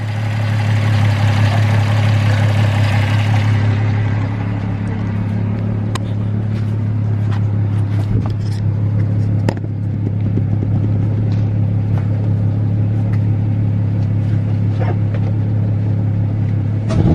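A car engine idles smoothly and steadily after a spark plug replacement, with a constant low hum close by that barely wavers, and light clicks and taps on top.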